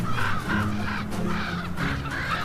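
Crows or ravens caw repeatedly in a rough, rhythmic series near a wolverine in a snowy far-north wilderness, loud and fairly close.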